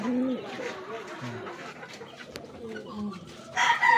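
Pigeons kept in a coop, soft cooing and bird calls near the microphone under someone speaking, with a brighter burst of bird noise near the end.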